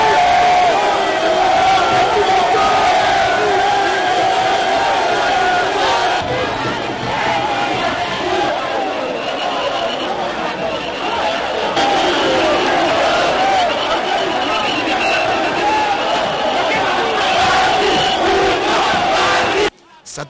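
A dense crowd at an outdoor rally in Équateur province, Congo, roars and chants continuously in welcome of presidential candidate Félix Tshisekedi, loud and sustained with shouts rising throughout.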